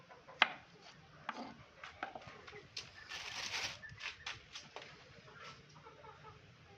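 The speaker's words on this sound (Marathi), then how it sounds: "चाकू घ्यायचा, असा फोडी करायच्या." Chicken being chopped into pieces with a small knife, a series of sharp, irregular cuts and knocks close by, with occasional faint bird clucks in the background.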